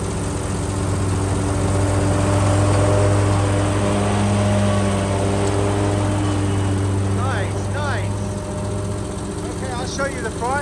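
A lawn mower drones steadily and loudly up close while mowing a Jonathan Green fescue lawn, with a few bird chirps breaking through near the end.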